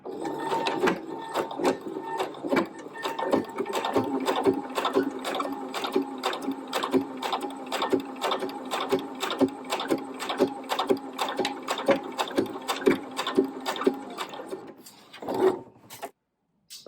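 A sewing machine stitches a scrunchie in a fast, even run of close mechanical thumps, slowing and stopping near the end.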